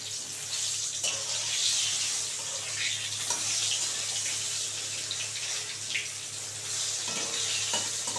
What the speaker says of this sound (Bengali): এটাও ভালো করে ভেজে নিয়ে তুলে নেব।